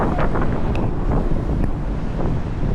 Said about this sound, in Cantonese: 拍攝當日係打緊1號風球， 所以你哋會聽到好大嘅風聲